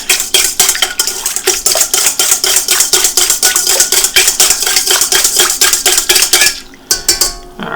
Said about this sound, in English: vigorously stir that around.